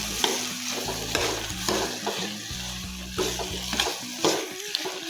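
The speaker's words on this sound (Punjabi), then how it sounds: "ਹੁਣ ਇਹਨੂੰ ਚੰਗੀ ਤਰ੍ਹਾਂ ਆਪਾਂ ਮਿਕਸ ਕਰ ਲੈਂਦੇ ਹਾਂ" Punjabi-style halwa pumpkin sabzi with garam masala is stirred and mixed in a hot pan: repeated scraping, clattering strokes in an irregular rhythm over a soft underlying sizzle, close by, with no speech.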